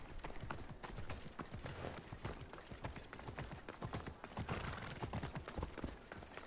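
Horse hooves clip-clop in rapid, steady rhythm in Assassin's Creed Odyssey, close and fairly loud, continuing throughout with no talk over them.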